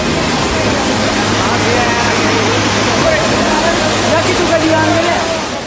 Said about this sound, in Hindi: पत्थरों को चीरती हुई आगे बढ़ती लहरें